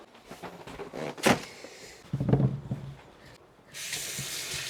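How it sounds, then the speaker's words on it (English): Potatoes being washed and scrubbed by hand under a running kitchen tap, with splashing, knocks against the sink and a steady stream of water toward the end, fairly quiet and close. "Just wash these. Just gonna scrub off the dirt."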